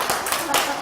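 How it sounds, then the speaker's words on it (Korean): A small group claps briefly in a classroom-style lecture setting, a short burst of scattered claps over less than a second. "박수 치세요. 박수."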